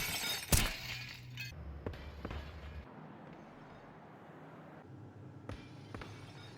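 Glass breaks in the control room of a Counter-Strike 2 map, a sharp loud shatter near the start followed by lighter clinks and thuds, then a quieter stretch and another brief impact.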